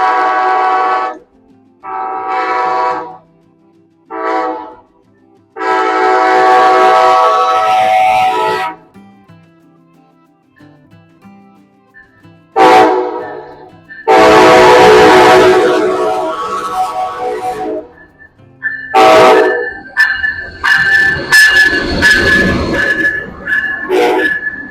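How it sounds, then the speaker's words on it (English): Amtrak Northeast Regional train pulling into a Virginia station, sounding several loud horn blasts in a pattern, then a rushing, rumbling pass and a screech of brakes as it slows, close and loud. "But anyway, the train is coming."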